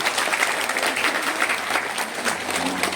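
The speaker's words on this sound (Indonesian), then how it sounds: "Tepuk tangan untuk kalian." Steady applause fills a church gathering for children who have just received their first communion, a dense, even wash of many hands clapping at close range with no talk over it.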